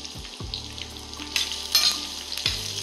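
Onion, garlic and ginger hit hot oil in a pan, giving a bright sizzle with a few low thuds as the pieces drop in, the frying swelling briefly louder midway.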